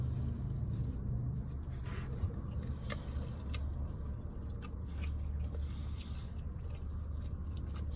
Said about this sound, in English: I'm going to take a bite of this.